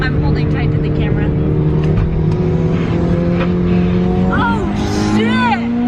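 A Mitsubishi Evo 8 on Fortune Auto 500 coilovers accelerates hard through a corner, its engine note climbing steadily from inside the cabin while tires give a brief squeal near the end.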